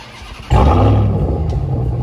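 A straight-piped RAM TRX pickup with its resonator deleted cold-starts by remote, the engine catching abruptly with a loud, deep burst and then settling into a heavy, rumbling idle close by.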